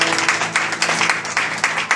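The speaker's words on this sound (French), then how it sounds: "On l'applaudit très fort." A church congregation at an evening gospel service applauds, with rapid uneven clapping from many hands that rises and dips in bursts over a low murmur.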